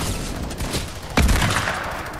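In Fortnite, dual pistols crack out rapid gunshots amid dense game battle noise, with a heavier impact burst midway.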